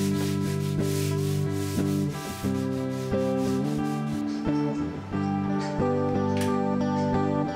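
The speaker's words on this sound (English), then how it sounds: "I'm using a sanding sponge to sand on all of the trim," A sanding sponge is rubbed back and forth over wooden kitchen trim in a rhythmic, close scratchy swishing, with a steady tonal hum running beneath the strokes.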